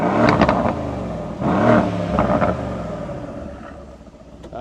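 A 2019 Mercedes GLC63 Coupe with 142,000 miles revs its engine, with several loud, throaty surges that rise and fall before settling into a rumbling idle, heard close with no talk.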